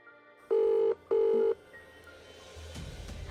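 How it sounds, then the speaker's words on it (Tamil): A telephone number is dialed: two loud, steady tone beeps in quick succession, followed by quiet room noise and a faint clunk, with no voices. "முதல்ல மகா கிட்ட ஃபோன் பண்ணி பேசுவோம்."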